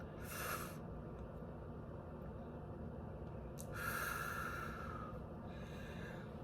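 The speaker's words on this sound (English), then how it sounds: "Breathe in, breathe out." Two slow, deep breathing cycles, each a soft airy inhale and exhale, close and quiet over a steady low background hum, with no talking.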